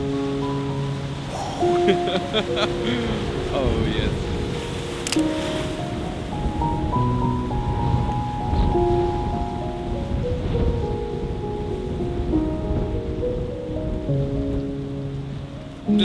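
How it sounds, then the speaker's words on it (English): Ocean waves break and wash along the rocky Norwegian coast in a steady, loud roar with surging swells. Someone speaks briefly over the surf, and music plays underneath. "So I want to have more of the movement of the waves."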